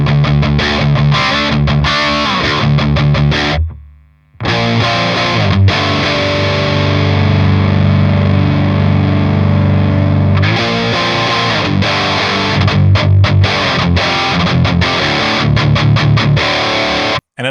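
Electric guitar played through a Plexi-style distortion pedal, loud and saturated, with thick sustained chords broken by a brief near-silent gap before full-volume playing resumes with choppy, rhythmic strums.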